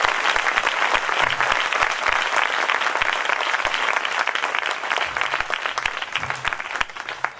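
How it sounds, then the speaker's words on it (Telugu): A church congregation claps steadily together in praise. The dense applause runs unbroken, loud and close. "అందరూ సంతోషంగా చప్పట్లు కొడుతూ దేవుని మహిమపరచండి"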